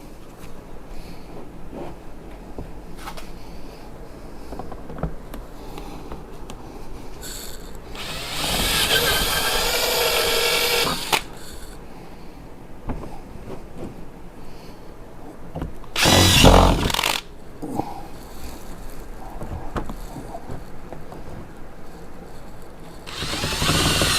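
A power drill fitted with a 5/16 drill bit bores holes during a Spike RZR Pro R fender flare install, two loud whirring bursts of several seconds each over quiet shop background, with a third starting at the end.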